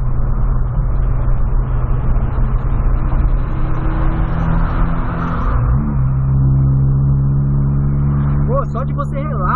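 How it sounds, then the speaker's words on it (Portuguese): A Volkswagen Golf engine revs hard and loud from inside the car, a sustained roar that rises and settles into a steady hum while someone talks over it. "Só de você relar no acelerador, o carro já começa a puxar já"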